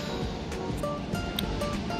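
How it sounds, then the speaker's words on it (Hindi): Sea waves washing onto Eastbourne beach on a cool, cloudy day, a continuous close surf wash with faint wind buffeting, no talking. "लहरें।"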